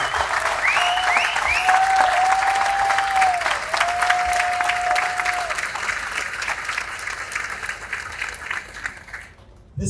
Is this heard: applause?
yes